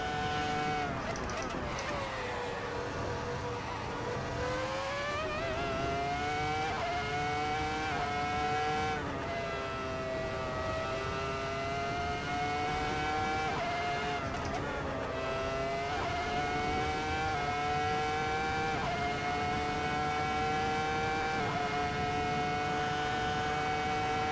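A Ferrari SF70-H Formula 1 car in Assetto Corsa drones at high revs throughout, its engine pitch climbing and dropping with gear changes, loud and constant.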